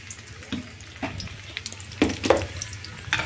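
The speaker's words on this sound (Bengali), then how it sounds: "এটা পনির ভাজা হচ্ছে।" Paneer frying in a pan: a close, crackling sizzle with bursts of spatter and stirring scrapes, growing busier toward the end, with no voices.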